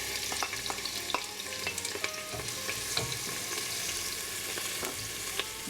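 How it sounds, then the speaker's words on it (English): Chopped onion sizzles and fries in coconut oil inside a pressure cooker, with a steady close crackle and occasional stirring scrapes and clinks. "now I'm going to fry up the onion"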